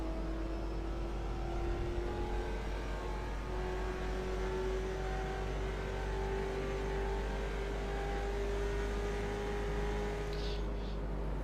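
A race car in a racing video game holds full throttle around the Road Atlanta track, a steady, loud engine drone whose pitch climbs slowly and stays even throughout.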